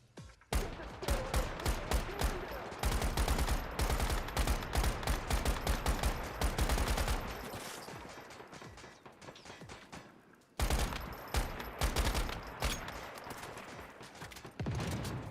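Assault rifle gunfire in the Once Human game, loud rapid automatic bursts and sustained strings of shots with brief pauses and a short gap near the end, with no talking.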